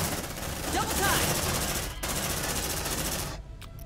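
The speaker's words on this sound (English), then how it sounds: "Deploying sentry gun." An automated sentry gun fires continuously in the video game Aliens: Dark Descent, a loud, dense burst of gunfire that runs for several seconds before cutting off abruptly.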